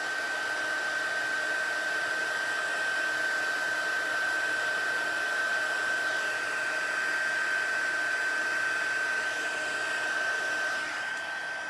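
A heat gun blows hot air steadily to unwarp an object, making a loud, unbroken whooshing drone with a steady whine throughout, alone without talk.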